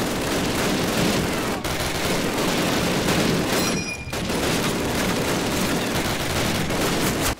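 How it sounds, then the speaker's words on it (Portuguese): Loud, continuous rapid gunfire blasts in Call of Duty on PC, filling the whole stretch, dense and harsh, with only a brief dip near the middle. "É muito alto o som dos tiros"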